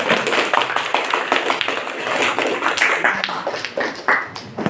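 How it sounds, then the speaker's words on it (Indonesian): A classroom full of students clapping steadily and loudly, dense overlapping claps sustained for several seconds. "Tepuk tangan dong."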